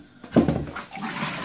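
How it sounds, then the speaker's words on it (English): Boiling water pours in a short, splashing gush over chicken of the woods mushroom pieces to blanch them, close and moderately loud. "Quickly blanch it with some boiling water."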